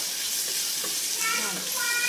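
Mustard seeds and cumin sizzle and crackle in a small amount of hot oil as a tempering for radish greens, a close, steady hiss with light popping throughout.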